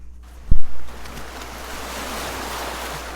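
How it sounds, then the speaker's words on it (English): Ocean waves washing ashore at sunset, a steady soft surf wash after a brief low thump near the start, continuous and fairly distant with no voices. "their only company the deep red sunset and the sound of waves"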